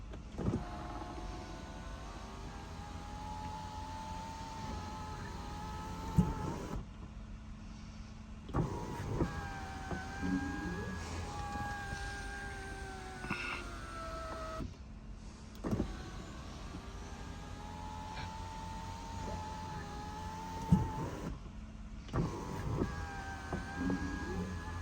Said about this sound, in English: Let's just run the sunroof a few times.